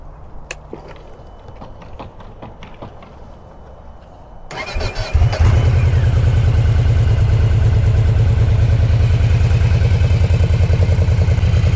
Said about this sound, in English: let's just fire this thing up so we can hear what it sounds like